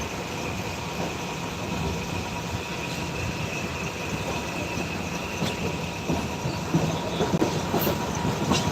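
A Bangladesh Railway train rolls steadily along the rails between Dhaka's Airport station and Kamalapur, a continuous rumbling roar with faint clickety-clack, heard up close and without any voices.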